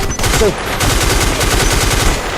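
Rapid automatic gunfire in the online shooter Black Squad, a dense continuous rattle of shots filling the whole stretch at close range, with a faint voice briefly audible beneath.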